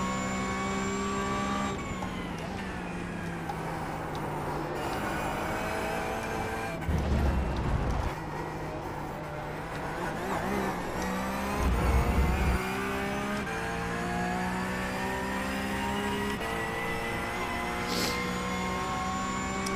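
Engine of a Porsche 911 Cup race car in the iRacing sim at Road Atlanta, a sustained mid-volume howl that rises through the revs with a couple of quick shift dips, steady throughout with no voice.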